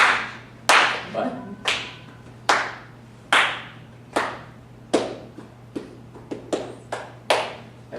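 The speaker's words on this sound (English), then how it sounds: "So we've done pats, we've done claps." Body percussion performed by hand: about a dozen sharp, separate claps and pats land one after another at an uneven, moderate pace, each crisp and close with a short decay, heard alone without talk.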